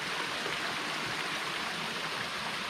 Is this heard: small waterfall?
yes